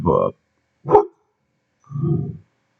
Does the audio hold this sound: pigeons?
no